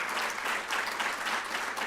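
An audience at a youth mental health event applauds the panel of speakers, a dense, steady round of clapping at even volume throughout.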